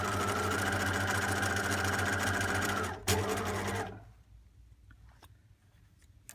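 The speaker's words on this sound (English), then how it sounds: "I'm going to just continue sewing all the way down to the bottom" A sewing machine stitches a fabric bag seam, running with a loud, steady whir for about four seconds before stopping. A few faint clicks and handling sounds follow in the quiet.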